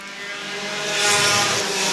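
Pure stock race cars at Star Speedway roar off together at the green flag to start a heat race, a dense engine drone that swells and grows louder as the field accelerates, with no talk.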